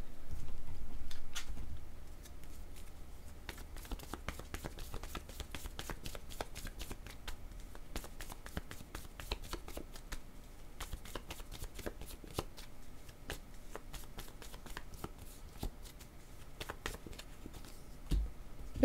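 Playing cards are shuffled close by in a steady, rapid riffle of soft flicks and slaps that continues for the whole stretch without talk.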